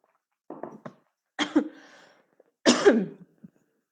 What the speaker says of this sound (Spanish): esas toses secas de alergia son complicadas